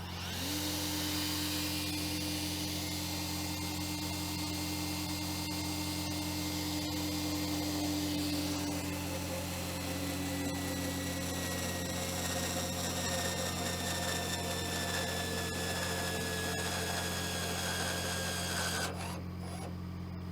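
A Dresser TD25G bulldozer bolt being torqued to 1,600 foot-pounds, likely with a powered torque tool, a loud continuous mechanical whine and hum with a deep steady drone, running unbroken for about twenty seconds before a brief change near the end.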